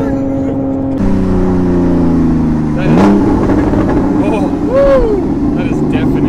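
A Porsche Cayman S with a custom straight pipe exhaust revs loudly and harshly up close, engine pitch climbing and falling in several sharp bursts, with voices reacting in between.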